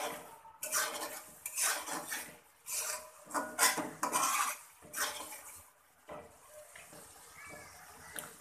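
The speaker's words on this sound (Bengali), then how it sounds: "এরই মাঝে 2-1 বার একটু উল্টিয়ে পাল্টিয়ে দিব যেন নিচে পুড়ে না যায়।" A utensil scrapes and clinks against a pot as spiced fish-head and mung dal curry is stirred, in short irregular bursts of metallic scraping with brief pauses and faint kitchen water sounds.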